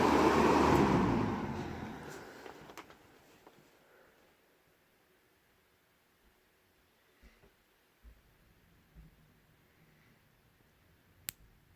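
A Kmart box fan winds down, its loud whirring hum fading steadily over a few seconds into near silence, followed by a few faint scattered clicks and knocks.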